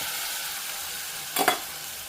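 Tamarind juice poured into a pan of sweet bitter gourd curry gives a short, sharp splash and sizzle burst over a steady, faint frying hiss, with no talking.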